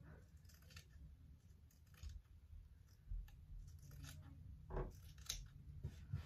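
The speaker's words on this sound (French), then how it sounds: "avec vos ciseaux, vous allez couper sur la ligne que vous avez faite." Scissors snip through fabric along a drawn line for a beginner's envelope pouch, a faint, close series of soft crunching cuts with no talk.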